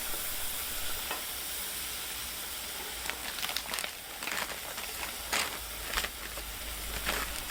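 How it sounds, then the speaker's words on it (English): Onions sizzle steadily in butter in a pan, with crackling frying and occasional stirring scrapes close by for hot dog onions. "the onions are coated with butter by now. They started cooking, they started sweating down."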